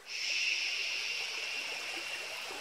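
Water flows by a river in a steady, bright rushing wash that stays even and fairly loud throughout, with no talking.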